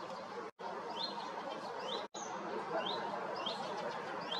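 A common redstart sings outdoors near a house in early May, its short, high, whistled phrases repeating every second or so, faint and somewhat distant over a soft, steady background hiss.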